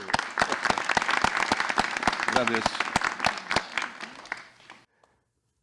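A small audience claps in a brisk, uneven patter while a voice speaks briefly; the applause thins out and stops into silence.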